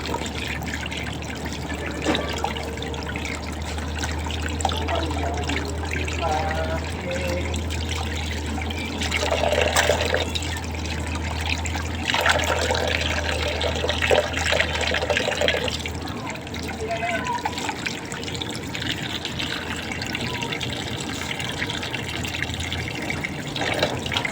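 Tap water runs and splashes continuously while tilapia is cleaned, with shifting trickles and surges as the fish is rinsed under the flow and a low steady hum beneath.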